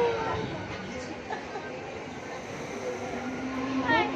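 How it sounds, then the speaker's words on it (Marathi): Steady rumble and rattle inside a passenger train running toward Alibag on a cold day, continuous and fairly loud, with voices chatting faintly underneath. "पूर्ण ट्रेन आमची रिकामी."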